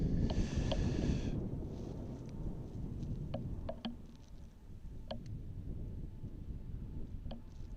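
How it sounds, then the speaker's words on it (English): Strong wind roars steadily across an open airfield at Amsterdam Airport, a dense broadband rush with gusty swells, faint distant engine whine and small clicks scattered underneath. "as you can hear, the wind is picking up pretty harshly"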